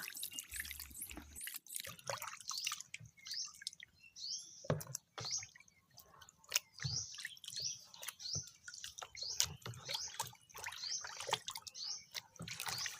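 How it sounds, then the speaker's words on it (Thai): Catfish washed by hand in a basin of salted water, with gentle splashing, dripping and squishing as the fish are rubbed, close and fairly quiet, with faint birdsong in the background. "แล้วก็จะล้าง ล้างให้สะอาดเลยค่ะ"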